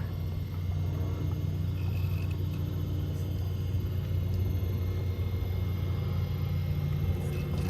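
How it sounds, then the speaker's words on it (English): An MJX H12P Bronco RC crawler's motor hums steadily as the truck drives slowly, a low continuous drone that stays even and close throughout. "The crawl control on this centerless motor here, man, it's pretty damn good."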